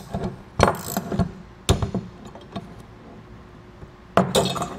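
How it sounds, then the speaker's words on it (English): Bolts being hand-tightened on a Rhino-Rack Pioneer Platform folding ladder bracket: a few sharp metallic clinks and short ratcheting bursts, separated by quiet pauses, close and alone. "go back to hand tightening until we get down to the bottom"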